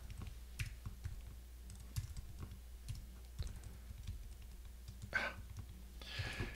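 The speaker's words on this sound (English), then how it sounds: "Hate it when I struggle to type" Computer keyboard typing during an SQL tutorial, with irregular bursts of key clicks spread across the clip at moderate volume over a low steady hum, with no talking.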